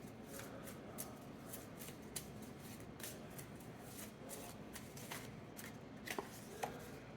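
Tarot cards are shuffled by hand in a quiet room, giving a steady, soft riffling and rustling throughout with a few sharper flicks and slaps of cards near the end.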